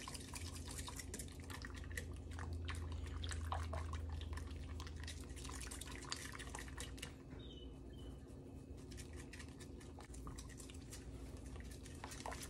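Powdered milk being whisked into liquid for homemade oat milk, shea butter and honey soap, with steady stirring and light clinking of the whisk against the bowl throughout, fairly close and continuous.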